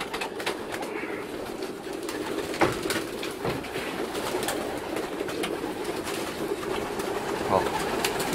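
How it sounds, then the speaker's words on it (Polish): Racing pigeons coo together during feeding in a loft about an hour after a young-bird race, a steady soft murmur of overlapping calls close by with a few sharper clicks and flutters. "mamy akurat teraz karmienie tych gołębi"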